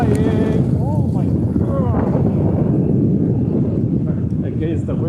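Strong, steady wind blowing outdoors in Tokyo on a sunny day, roaring loudly and buffeting the microphone throughout, with a voice speaking over it.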